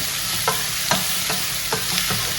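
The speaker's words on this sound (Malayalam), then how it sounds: "ഇഞ്ചി വെളുത്തുള്ളി പേസ്റ്റ് അതൊന്ന് ഇളക്കുക" Ginger garlic paste sizzles in a hot pan as a spoon stirs it, giving a few clear scraping knocks over a constant frying hiss, close and steady, with no talk.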